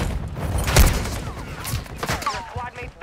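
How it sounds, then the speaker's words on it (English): Hemlock rifle shots crack in Call of Duty Warzone, a few sharp bursts in quick irregular succession with one strong hit early, mixed with game sounds and players talking. "shot with a hemlock"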